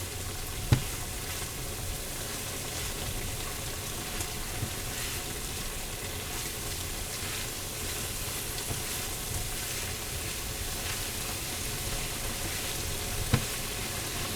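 Yellow summer squash frying in a pan with Mexican oregano, a steady close sizzle with soft stirring scrapes and two sharp utensil knocks, no talking.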